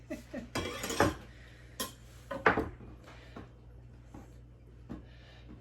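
Chopped strawberries are scooped back into a bowl in a kitchen, producing scattered soft clinks and taps of utensils against the dish, with a few sharper knocks among quieter handling sounds.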